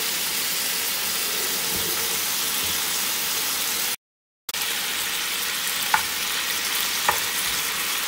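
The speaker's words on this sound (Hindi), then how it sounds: "इनको हम लोग पाँच सात मिनट के लिए ही फ्राई करेंगे" Chicken pieces fry in warm ghee for a chicken fajita, giving a loud, continuous sizzle and hiss that cuts out briefly partway through, then returns with a couple of small pops and crackles.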